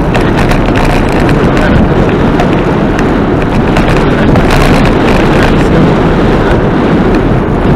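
Strong wind roars and buffets the microphone without a break during a bicycle ride toward Kakrina, a loud, steady rush that drowns out everything else.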